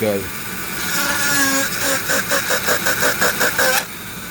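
A high-pitched Dremel rotary tool whirring, then grinding in rapid pulses as its sanding drum sands purpleheart wood for a ring, stopping abruptly near the end.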